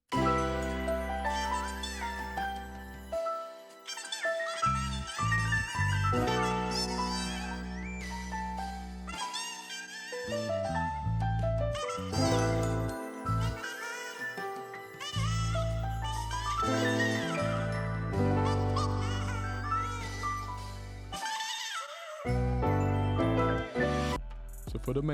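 A soul music loop's main section plays through, with layered melodic instruments, sustained chords and a bassline that drops out briefly at points; full and steady throughout with no speech.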